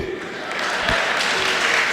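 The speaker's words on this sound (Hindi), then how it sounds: "सारे लोग ताली बजाओ" An audience at a Hindi comedy poetry recital breaks into clapping, a dense, steady patter of many hands that builds after a brief moment and holds strong throughout.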